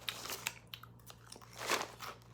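Crunchy healthy snack chips bitten and chewed close to the mic, a steady run of crisp crunches and crackles that swells near the end, with no talk.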